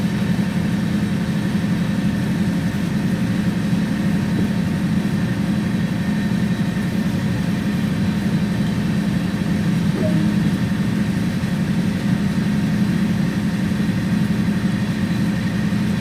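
A Canadian National GP9RM diesel locomotive in Train Sim World 2 runs with a steady, loud low engine drone and rumble, unchanging throughout with no talking.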